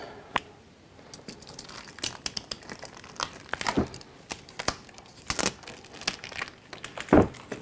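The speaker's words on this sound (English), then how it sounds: "It's something about the way that cellophane kind of breaks." Cellophane shrink-wrap being torn and peeled off a board game box: close, crisp crinkling and crackling in irregular bursts, with a few louder tearing rips scattered throughout and no speech.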